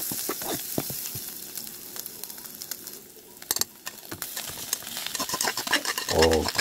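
Ham sautéing in a pan for fried rice gives a steady close sizzle and crackle throughout, with a louder burst of frying near the end.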